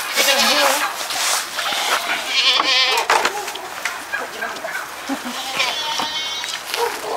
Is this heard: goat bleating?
yes